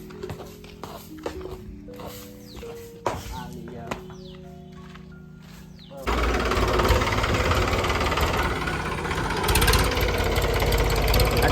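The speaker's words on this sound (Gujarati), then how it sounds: "આજે તો ટ્રેક્ટર આવી ગયું છે." A tractor engine idling on a farm, starting up partway through into a loud steady low rumble, with scattered clanks and voices before it.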